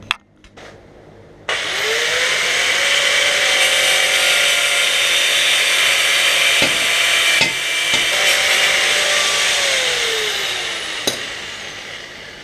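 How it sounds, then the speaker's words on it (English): A stud is removed from a VW Super Beetle cylinder head with a power tool, which starts after a short pause and runs as a loud, continuous whirring with a slowly shifting whine, broken by a few brief knocks. "First thing I'm gonna do is just take out that other stud."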